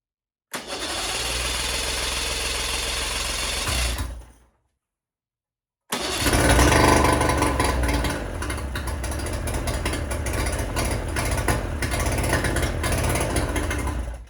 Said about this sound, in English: I'm going to see if the engine even shows any signs of wanting to start.